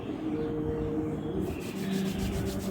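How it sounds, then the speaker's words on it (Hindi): Hands rub together in a steady, dry back-and-forth swish, close and continuous, as part of an exercise for elderly people. "इस तरह से हाथों को मलिए"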